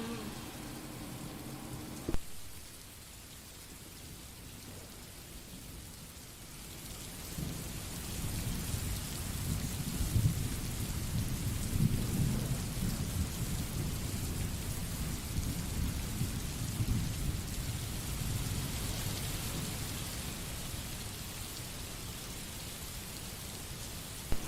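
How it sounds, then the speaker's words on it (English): A heavy thunderstorm pours steady rain while low thunder rumbles on and off, a dense continuous hiss of rainfall swelling after an early crack, with no voices. "through the rumbling and the pattering of the rain"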